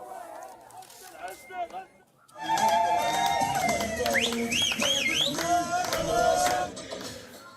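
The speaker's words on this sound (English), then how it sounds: "cheering can be heard at several displacement camps" Palestinians in Gaza displacement camps celebrating a ceasefire, a loud continuous crowd roar with whistles and rising cheers, preceded by a brief quieter stretch of voices before the noise swells.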